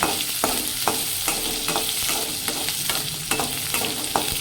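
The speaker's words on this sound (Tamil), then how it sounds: "வெங்காயம், சீரகம், மிளகு போட்டிருக்காங்க, கருவேப்பிலை. இது நல்லா வதங்குது." Onion, cumin, pepper and curry leaves sauté in a pan for eggplant kuzhambu, a steady close sizzle broken by regular scraping strokes of a spoon stirring.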